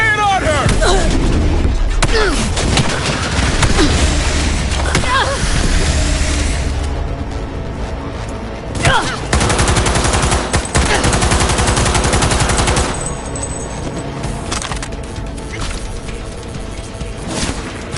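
Sustained automatic gunfire and heavy bursts in Cyberpunk 2077 during a city battle, loud and dense with booming impacts, thinning out later, with shouted voices mixed in.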